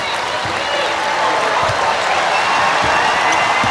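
Crowd in a basketball arena at a top-ranked women's college game, a broad sustained roar of applause and cheering with a few sharper thumps, with a commentator talking over it.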